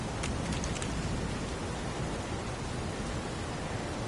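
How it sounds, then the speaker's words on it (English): Heavy rain pours steadily in a video game scene, a dense, even wash of close, loud drops drumming without pause. "It's pouring rain."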